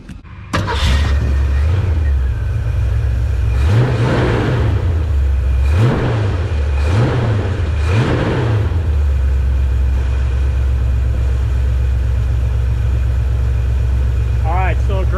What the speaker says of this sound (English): let's start this bad boy up and see how she sounds here today.